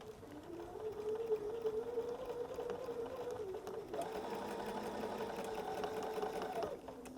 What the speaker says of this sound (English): now I'm just going to stitch all the way along right in the ditch